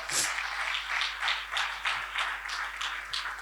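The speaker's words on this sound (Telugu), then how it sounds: "గట్టిగా చప్పట్లు కొడదామా." An audience claps together at a ministry gathering, a dense rippling burst of applause rising and falling in waves, fairly close and moderately loud, with a voice briefly audible.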